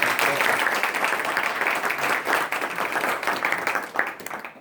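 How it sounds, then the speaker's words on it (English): A live audience at a mobile app UX showcase gives a round of applause, a loud, dense burst of clapping that holds steady for several seconds and then tapers slightly, with no voices over it. "Let's have a round of applause for that."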